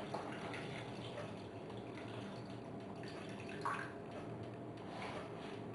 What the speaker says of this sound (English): Then we add 5 cups of water.